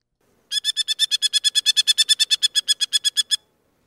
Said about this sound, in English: I heard a merlin, a small hawk,